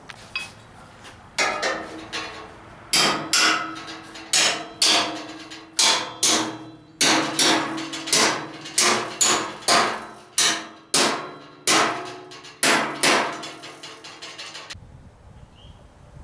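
Loud, close hammer blows pound slit metal down onto sharp steel edges while building a blacksmith shop, roughly fifteen ringing strikes in a steady rhythm with short pauses between them.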